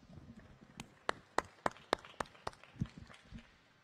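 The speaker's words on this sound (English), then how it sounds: "let's give a small applause to the winners here again." A small group at a science 3D medical challenge final gives sparse, scattered applause for the winners: about seven distinct, fairly close claps spaced roughly a third of a second apart, with quiet room noise between them.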